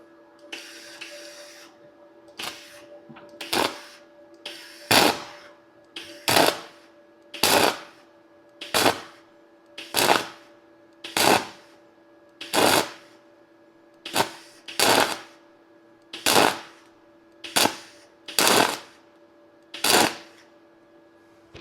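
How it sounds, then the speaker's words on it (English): Repeated short bursts of arc welding along a line on an MGB front wing, about a dozen evenly spaced crackling zaps with brief pauses between them, close and fairly loud with no talk. "so you're going to weld that up like so"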